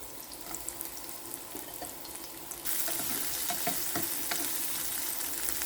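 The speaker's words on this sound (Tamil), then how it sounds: "சட்டி சூடாறிட்டு இப்போ நான் இதில் கொஞ்சம் வெங்காயம் சேர்க்குறேன்" Half a medium onion sizzles and fries in a hot pan for sweet kuzhi paniyaram, a steady close crackle that grows louder partway through, with some stirring and splashy watery noise.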